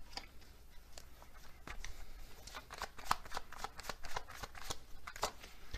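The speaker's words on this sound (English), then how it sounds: "let's get some overall cards" Tarot cards shuffled by hand in a close, steady flurry of crisp riffling snaps and ticks, with no voices over it.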